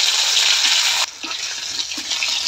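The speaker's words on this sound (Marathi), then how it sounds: "तेल गरम झाले, त्याच तेलामध्ये फोडणी करायला ती लसूण अद्रकची पेस्ट." Garlic-ginger paste hits hot oil for a tempering in a cauliflower curry, giving a loud hissing sizzle that drops suddenly, then settles to a softer sputter with faint pops, no voices.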